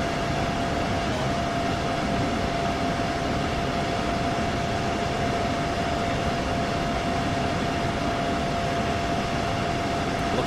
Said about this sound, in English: Right up to 160 right now. I think this is the fastest that we can go on this train.